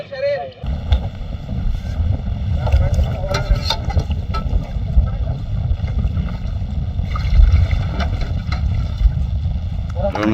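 Wind roars across an open boat on the Padma River while an engine drones steadily underneath, with occasional voices and clatter on deck.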